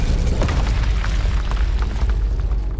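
Hogwarts Legacy's Incendio fire spell bursts out as a loud, booming blast of flame with crackling bursts on top. The rush stays strong and continuous for nearly three seconds.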